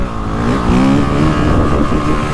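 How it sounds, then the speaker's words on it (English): A 2025 Honda CRF450R Works Edition dirt bike engine revs hard and loud close by, a sustained buzzing roar that climbs in pitch and holds, with no voices. "and it'll rev out and pull so nice."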